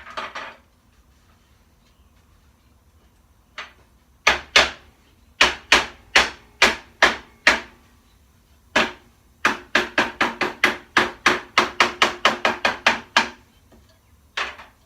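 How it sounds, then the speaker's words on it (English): Sharp hammer blows flattening folded hardware cloth over a hard surface, single strikes at first, then a quick run of rapid taps. "I think I'm just going to fold it backwards and then hammer it flat."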